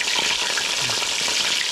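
Fish sizzling in a pan outdoors on a cold, windy day of ice fishing: a dense, steady frying hiss up close, continuous throughout with soft crackles and no talking.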